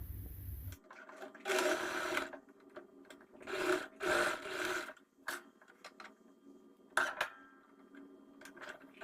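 A sewing machine stitching a rose puff sleeve blouse runs in several short bursts of fast mechanical whirring, separated by quiet pauses, close and moderately loud, with faint handling noises between runs.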